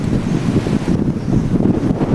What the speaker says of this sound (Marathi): आता प्रचंड घोघावतं वारा, त्याचा आवाज फार मोठ्याने येत आहे.